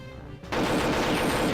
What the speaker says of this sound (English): And they just shoot for so damn long.